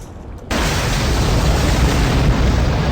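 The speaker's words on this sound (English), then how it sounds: "when the explosion went off" A huge video game explosion bursts in after a brief quiet moment and holds as a dense, loud, roaring wall of noise to the end, with no talking.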